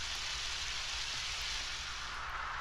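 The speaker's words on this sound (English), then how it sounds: "The sound of muffled rain on the cave top." Muffled rain drumming on a cave roof in the Undertale video game, a steady, even wash of hiss that does not let up, with no talking.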